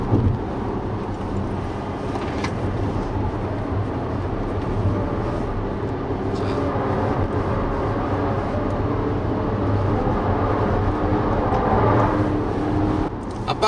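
An Infiniti Q30 car cornering and then braking, with a steady engine drone and road and tyre rumble heard from inside the cabin, fairly loud and continuous, no talking.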